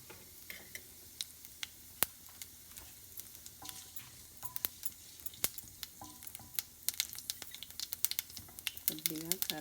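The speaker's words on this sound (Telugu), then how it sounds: "ఆయిల్ వేడయ్యాక ఆవాలు చిట్పట్లాడాక జీలకర్ర ఒక పావు స్పూన్," Mustard seeds and cumin spluttering in hot oil for a coconut powder tempering, a scatter of sharp pops and crackles of varying loudness over a faint sizzle, growing busier toward the end.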